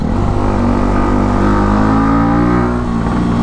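A Yamaha YZF R125 motorcycle with an untuned aftermarket exhaust revs loudly and close, its engine note rising and settling with a continuous throaty roar.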